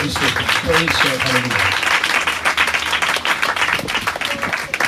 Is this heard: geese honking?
no